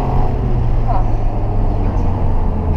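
A car accelerating hard toward the finish of an autocross course, heard from inside as a loud, steady roar of engine and road noise that holds unbroken throughout.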